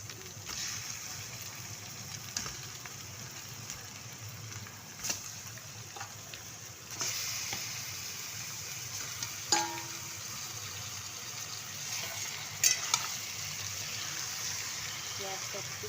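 Meat pieces go into a hot pan for homemade biryani, raising a steady, moderately loud sizzling hiss with occasional sharp pops and clinks, with no talk.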